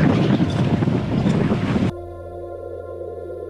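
A sailboat runs in about 15 knots of wind off the port quarter at sea, with loud, steady rushing wind and water noise that drops abruptly halfway to a quieter hum.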